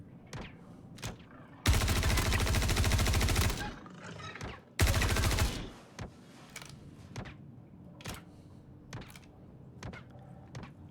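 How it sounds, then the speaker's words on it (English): Gunfire from guards in a space sci-fi video game: two long, loud bursts of rapid automatic fire, followed by scattered single shots and thuds that fade to quieter, more distant reports. "I feel like the Copians are being shot by the guards"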